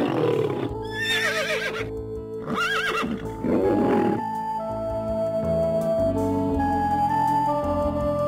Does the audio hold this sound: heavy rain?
no